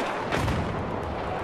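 Battlefield 4 gunfire in a Final Stand DLC match, a dense, continuous barrage of shots and booms that fills the short stretch with loud, rumbling fire and no clear gaps.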